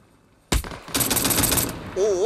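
Rapid automatic gunfire in the military video game Arma Reforger, close and loud, bursting in after a quiet moment and continuing as a dense rattle, with a siren-like wailing tone rising near the end.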